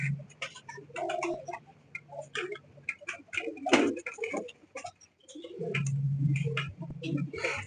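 Pigeons coo in low, soft bursts among scattered clicks and rustling, with voices talking nearby.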